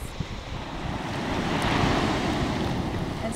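Water runs down the side of a sandcastle, washing the sand smooth, as a steady, broad rushing wash that swells slightly in the middle, heard alone and close.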